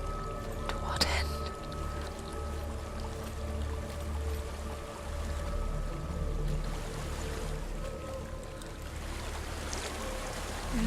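Waterfall in the dark fantasy game Hellblade: Senua's Sacrifice: a steady, rushing wash of falling water that runs unbroken throughout, with a low rumble underneath.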